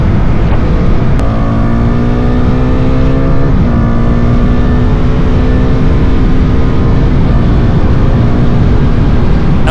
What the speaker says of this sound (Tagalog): Ang sarap ihato nitong motor na to.